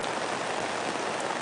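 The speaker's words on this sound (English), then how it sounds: "It is raining heavily right now. It went from a light drizzle to a proper downpour." Heavy rain pours down in a steady, dense hiss, a full downpour drumming on surfaces with no break and no voices.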